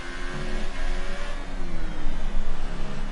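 A McLaren Formula 1 car's engine in the F1 2018 racing game, driven at Circuit de Catalunya, howls steadily with shifting revs through a hairpin, loud and continuous with no voice over it.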